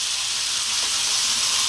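Chopped canned tomatoes hitting a hot pan of four frying spices, producing a loud, steady, close sizzle with a hiss of steam and no speech.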